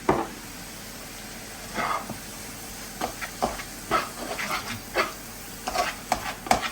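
A sizzling stir fry seasoned with cayenne, chili and Chinese five spice, stirred in a hot pan: a steady frying hiss under irregular scraping strokes, close and moderately loud, no voices.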